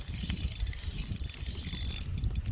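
Rapid clicking ratchet of a fishing reel being cranked from a boat while playing a 3.6 kg lake trout, steady and close, over a low rumbling background, with a brief pause near the end.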